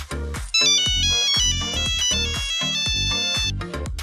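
A Nokia mobile phone ringtone plays alone, a loud, bright melodic tune of repeated electronic notes over a steady beat, filling the whole few seconds.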